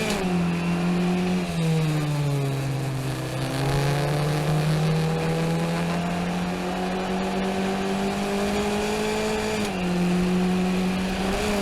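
In-car sound of a race car at speed on the Summit Point circuit during a race, a loud steady engine drone that dips and climbs in pitch as the driver lifts and accelerates through turns.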